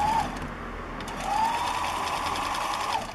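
A sewing machine stitches fabric up close, its rapid mechanical chatter running steadily with small rising and falling shifts in speed, fairly quiet and without voices.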